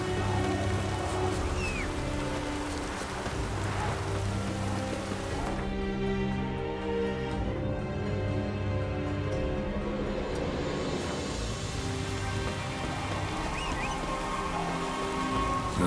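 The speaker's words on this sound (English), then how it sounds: "Looks like rain." Steady rain falls throughout in The Witcher 3, a dense hiss of drops over low rumbling tones and a droning background score.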